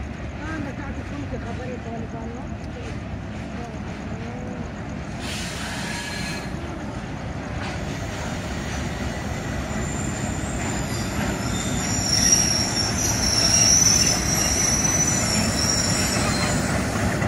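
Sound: Thal Express train arriving at Jand Junction

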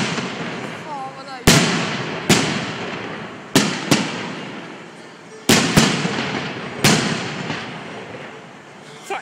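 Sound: fireworks exploding at Liseberg amusement park

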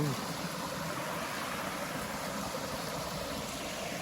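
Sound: flowing stream below a waterfall

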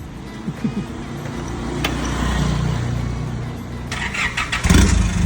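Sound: Isuzu 2500 engine starting and running

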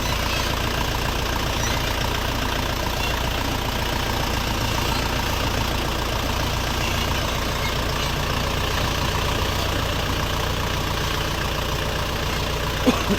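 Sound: tractor engine idling

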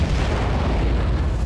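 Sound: weapon fire and explosions in video game Aquanox

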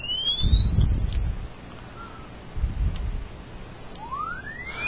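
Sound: oscilloscope generator sine wave frequency sweep from 0 to 440

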